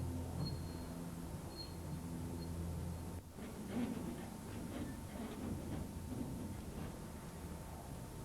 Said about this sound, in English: As the train draws slowly forward, each wagon is filled with crushed coal.